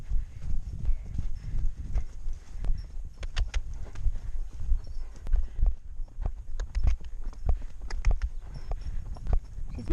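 A horse's hooves clip-clop in a steady walking rhythm during a ride, close and clear, with light thuds and creaks of tack between steps.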